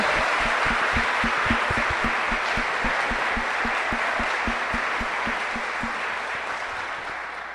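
Congregation applause at an evening church service, a broad, steady wash of many hands clapping throughout, loud and close, with a regular rhythmic beat running beneath it and no talking.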